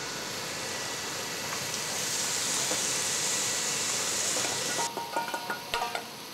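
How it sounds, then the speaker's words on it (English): Braised veal meat and its juices go back into a hot pan with the browned mirepoix, making a loud, steady sizzle, followed by a few sharp clinks and scrapes near the end. "we're going to put the meat back in the pan with all its juices"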